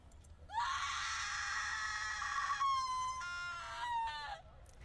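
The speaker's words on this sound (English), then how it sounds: "A blood-curdling scream shook the room." A long, piercing scream from a horror video game, a shrill, sustained shriek with a sliding pitch that rises and wavers for about four seconds, loud and close, with no talking over it.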